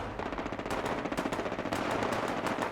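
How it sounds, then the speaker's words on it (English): Rapid machine-gun fire from the White Springs Resort in the video game Fallout 76 rattles in dense, continuous bursts, loud and close, with no talking. "Gunfire rang out from the White Springs Resort"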